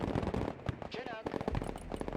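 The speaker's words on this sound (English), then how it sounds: "Chinooks with those 50 cals certainly help" In the video game Broken Arrow, a Chinook helicopter's .50 cal machine guns rattle in dense rapid bursts amid urban combat noise, with a voice talking over the din.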